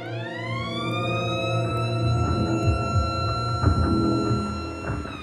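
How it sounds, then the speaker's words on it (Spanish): A fire station siren wails in a steady, loud, sustained tone that rises at the start and then holds with rich overtones, while a low rumble and scattered clatter carry on underneath. "Cuando suena la sirena"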